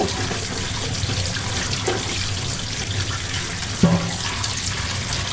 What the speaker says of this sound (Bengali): আমি এইভাবে হাতের সাহায্যে ভালো মতো ডলে ডলে ভেন্ডিগুলোকে ধুয়ে নিব।